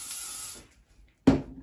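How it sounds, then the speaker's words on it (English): Hairspray sprayed onto hair roots before rolling in a Velcro roller: a faint hiss early, then a short, sharp, close spray burst of about a quarter second, with no talking. "Spray the roots"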